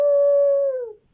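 A person imitates a wolf howl, giving one clear, steady, sustained tone that slides down and fades away near the end, close and alone.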